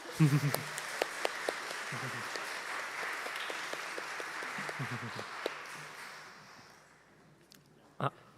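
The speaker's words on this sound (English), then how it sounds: "Let's give them a round of applause." A church congregation applauds at a holiday pageant, a steady wash of many hands clapping that fades out over several seconds, with some speech and a couple of louder thumps near the end.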